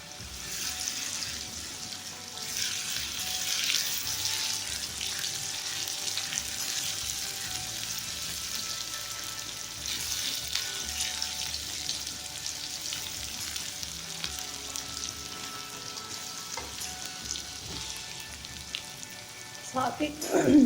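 Onions with chopped ginger and garlic fry in a karahi, giving a steady, close sizzle that holds evenly throughout with light crackling and a few faint stirring sounds.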